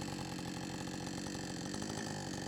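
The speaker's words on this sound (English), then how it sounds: "Cutting with my Alaskan chainsaw" A budget Alaskan chainsaw mill rips boards from a tree trunk, the chainsaw engine roaring loud and steady at full throttle throughout with no pauses.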